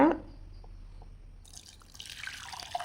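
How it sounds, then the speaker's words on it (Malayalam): Hot rasam poured into a serving dish for a home-cooked lunch, a faint, soft liquid trickle and splash that grows a little fuller toward the end, with no talking. "ഇപ്പം രസം നമുക്കിതിലേക്ക് ഒഴിച്ചു കൊടുക്കുവാണ്"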